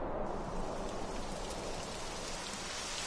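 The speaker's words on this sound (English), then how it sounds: "Typical. It would have to go and start raining, wouldn't it?" Steady rain starts falling in the video game Dragon Quest 11, a continuous dense hiss of raindrops that stays even and close throughout with no voices.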